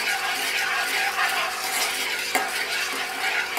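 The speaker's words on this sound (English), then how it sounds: "So make sure you keep stirring and keep a very," A spoon or utensil scrapes steadily around a pan of cognac caramel, close and continuous, over a soft bubbling sizzle, with a faint knock of metal near the end.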